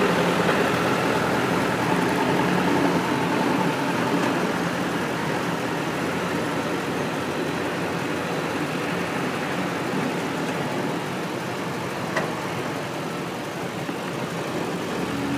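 A 2001 Lincoln Navigator's 5.4 litre 32-valve V8 idles with a steady, even hum and faint mechanical clatter, holding a constant level throughout with no voices.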